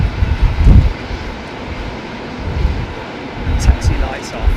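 A Qatar airliner with GP7200 engines taxiing at Heathrow in windy conditions, a low rumbling jet engine drone with gusting wind, while a person talks over it.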